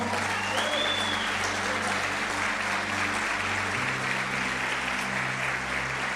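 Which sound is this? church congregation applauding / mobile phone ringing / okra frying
church congregation applauding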